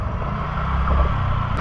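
A TVS Ntorq 125 Race Edition scooter (2022) engine hums steadily while riding, a continuous low drone with road and wind noise, rising slightly toward the end.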